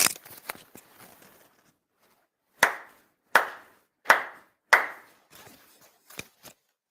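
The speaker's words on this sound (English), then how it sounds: "Chido haire 4 sincere claps." Four deliberate ritual hand claps at a Shinto ceremony, sharp and evenly spaced in a quiet room, following some softer rustling and taps, with a couple of fainter clicks afterward.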